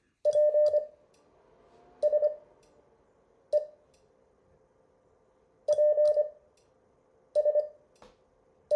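Morse code (CW) spelling the word "please" plays as clean, evenly pitched beeps in short dot-and-dash groups separated by pauses, clear and alone over a quiet background.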